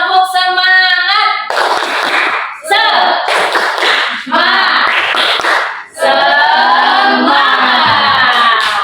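An eighth-grade class claps together in a rhythmic group clap, loud bursts of hand claps in patterned rounds broken by short pauses, with voices chanting along between them.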